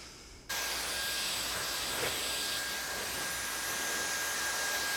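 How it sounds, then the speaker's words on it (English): A Dyson Airwrap hair dryer switches on at its second heat and dryer setting, then holds a steady, loud, even rush of blowing air with a faint high whine. "Let's put it on the second heat and the second dryer setting."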